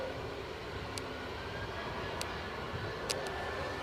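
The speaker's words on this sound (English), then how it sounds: "Oop, the plane's moving." A passenger airplane taxiing at Edinburgh airport makes a broad, steady engine rumble and whine, distant and continuous, with a few faint clicks on top.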